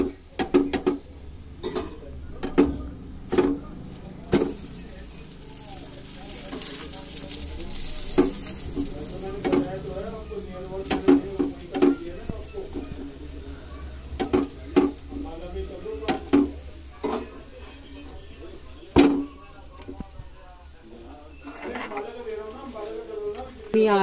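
Radish-stuffed paratha frying in oil over a low flame, a steady soft sizzle broken by repeated scraping and pressing clatters from a spatula on the pan, with occasional speech.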